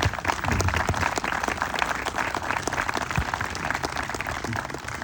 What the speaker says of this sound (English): let's give all the veterans a round of applause